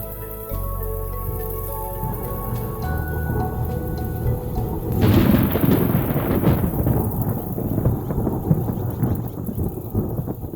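A night thunderstorm breaks over a cave in Kenya after months of drought: a deep rumble of thunder gives way midway to a loud, dense roar of heavy rain with scattered close drips.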